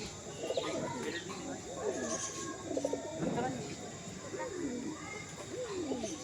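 Madrasi pigeons cooing close by, repeated soft throaty coos overlapping throughout with some faint chirps in the background.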